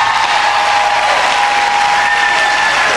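A large congregation claps loudly and continuously at an evening conference service in a domed hall, a dense, steady wash of applause with no break.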